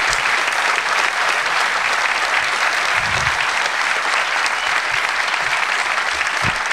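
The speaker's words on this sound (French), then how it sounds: "On peut vous applaudir." A theatre audience claps loudly after a comedy show, with a thick, even wave of applause sustained close and strong throughout and brief low thumps breaking through.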